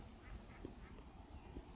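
Ducks quack now and then at a lakeside trail in Shelly Lake park, North Carolina, a few faint calls rising over a steady outdoor hiss.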